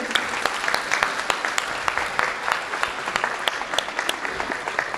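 A crowd at an annual cultural festival applauds loudly for volunteers and performers, sustained close clapping with many sharp individual claps standing out over a thick continuous roar of hands.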